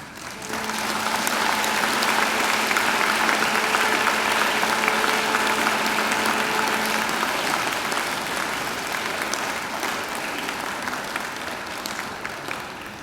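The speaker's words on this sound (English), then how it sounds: "I invite you to give them a mighty round of applause" A large graduation ceremony crowd gives a long, thunderous round of applause to families and friends: dense, continuous clapping fills the hall for over ten seconds, with a faint sustained tone beneath early on, then gradually eases.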